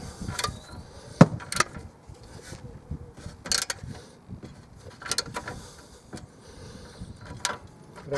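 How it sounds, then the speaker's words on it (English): Track rod end nut being worked loose on a 2007 BMW E91 335i, with scattered sharp metallic clicks and knocks over quiet garage background, close by and irregular in rhythm. "Let's see if we can hopefully get this nut off"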